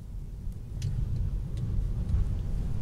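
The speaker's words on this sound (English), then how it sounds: "let's just flatten the accelerator" A Tesla electric car accelerates at full throttle, a steady low rumble of road and drivetrain noise building gradually over a few seconds, with faint ticks above it and no talking.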